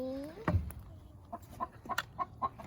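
An angry hen at a home hatchery clucks in a series of short, sharp, close calls after an opening squawk.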